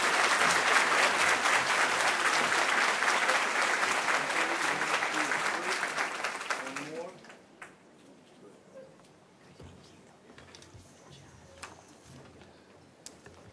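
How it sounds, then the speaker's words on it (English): Loud, sustained applause from a luncheon audience at a Women's History Month event fills the first seven seconds, then fades out, leaving a quiet room with a few scattered knocks and soft movement. "A round of applause for you, too."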